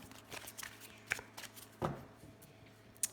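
Lenormand cards are shuffled and cut by hand in a quiet room, giving soft intermittent riffling and a few sharp slaps close by, with no talking.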